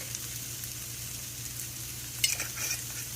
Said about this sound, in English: I'm just going to mix this around again.